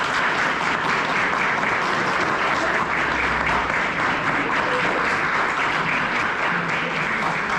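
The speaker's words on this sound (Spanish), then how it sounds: "Un fuerte aplauso, por favor." An audience at a school civic-education event claps loudly and steadily for a guest speaker, a dense continuous applause that holds at full strength for several seconds.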